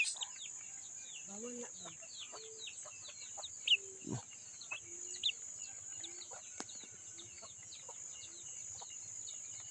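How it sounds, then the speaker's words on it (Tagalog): Red junglefowl (manok labuyo) clucking and calling in short, scattered bursts, fairly faint against a steady high insect drone, with one louder sweeping call near the middle and someone talking quietly at times. "Tingnan mo, manok labuyo."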